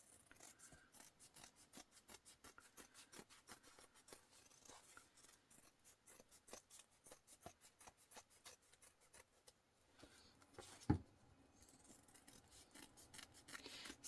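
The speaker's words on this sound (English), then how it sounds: "And then trim the foam down." Scissors trimming foam for a sewn bag, heard up close as a long run of quick, rhythmic snips, followed by a sharp knock and softer rustling near the end.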